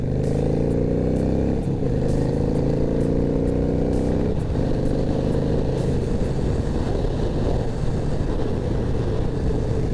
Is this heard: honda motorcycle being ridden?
yes